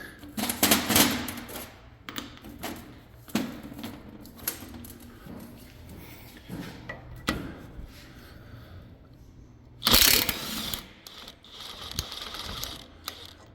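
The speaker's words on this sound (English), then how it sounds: "So now we're going to take the 2 bolts and the 1 nut, or actually it might be 2 nuts and 1 bolt out." A ratchet wrench works 17 mm nuts and bolts loose during a vehicle repair, in bursts of rapid clicking separated by pauses, with a louder clattering metal burst near the end.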